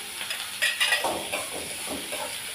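Tomatoes, curry leaves and salt fry in a pan for a soya chunk gravy while a spoon stirs them, producing a soft sizzle with light scrapes and metallic clinks and a sharper knock at the end.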